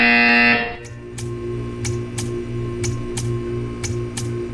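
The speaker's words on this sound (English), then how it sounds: "You will hear a buzzer." A loud electronic buzzer sounds in Portal 2 for about half a second and cuts off, followed by a steady series of evenly spaced clicking ticks over a low hum.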